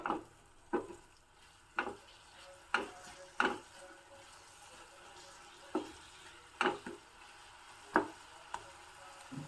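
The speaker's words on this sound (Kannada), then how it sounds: "ನಾನು ಹೀಗೆ ಫ್ರೈ ಮಾಡ್ತಾ ಇದ್ದೀನಿ ನೋಡಿ" Chopped eggplant, onion and leafy greens fry in a pan. Regular knocks and scrapes from stirring rise over a soft, low sizzle at a moderate distance.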